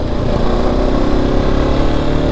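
A KTM RC 390 BS4 motorcycle with a pickup and misfiring problem revs up to about 4,000 to 5,000 RPM, producing a loud, steady, buzzing engine drone at close range with no voices.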